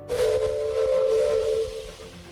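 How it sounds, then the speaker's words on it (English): A train's horn gives one long, steady blast that lasts about two seconds and then fades, loud and close, with no voices. "The train's horn blares"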